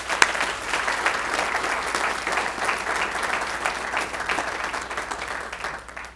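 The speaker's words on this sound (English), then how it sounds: "please join me in just a second with a round of applause for our new trustees" Audience at a school board meeting applauding newly sworn-in trustees, a steady burst of many hands clapping indoors that tapers off toward the end.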